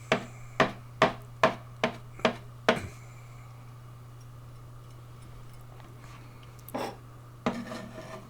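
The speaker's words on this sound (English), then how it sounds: "then just chop them up relatively finely" Kitchen knife chopping leaves finely on a board: about seven quick, sharp, evenly spaced chops up close, then a steady low hum with a few scattered knocks near the end.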